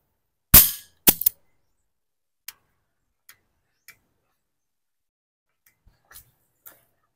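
Two loud, sharp shots from a Sarsilmaz K11 pistol fired at a board 7 meters away, the second quickly followed by a brief echo, then several faint, sparse clicks and taps in otherwise silent surroundings.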